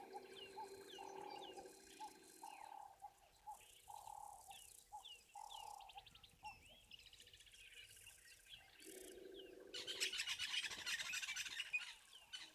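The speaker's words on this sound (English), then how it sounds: "There's a crested barbet calling, that very continuous grrrr." Crested barbet at a waterhole giving a long continuous trill, faint and distant, with other birds chirping and insects buzzing around it and no voices.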